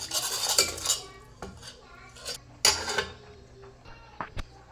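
A spoon scrapes and clinks against a pot while cooked lentils for sambar are stirred, a few scattered metallic strokes with quiet pauses between them and no talk.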